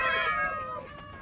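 Several cute cats meow together in the Minecraft video game, a short burst of bright, overlapping game meows that fade slightly toward the end.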